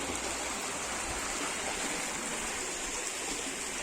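The Semnon river flows around a meander near a small village, giving a steady, continuous broadband rush of running water that stays even and close throughout, with no voices.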